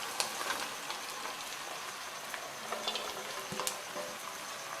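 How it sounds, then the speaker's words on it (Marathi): Sabudana frying in a pan with potato, chili and peanuts for khichdi, a steady soft sizzle and crackle with scattered small pops and clicks of stirring, close and fairly quiet with no talking. "व्यवस्थित असा फ्राय करून घ्यायचं आहे"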